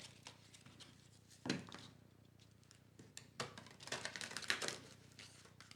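A deck of tarot-style cards is shuffled, giving faint, soft riffling patter in a couple of brief bursts over quiet room noise.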